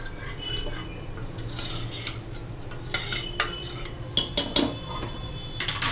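A spoon mashing cooked dal (lentils) in a pot for a dal and brinjal dish, giving light scattered clinks and scrapes against the pot that come in small irregular bursts over a low steady background.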